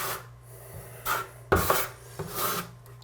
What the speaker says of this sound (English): I'm going to just trowel in the general vicinity of where I know that tile's going to go